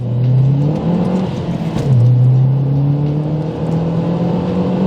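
A Stage 1 MazdaSpeed 3 accelerates hard in a 30-70 mph pull on a cold 4 °C day, the engine's rising drone climbing steadily through the gears, with a brief dip at a shift, loud and continuous throughout.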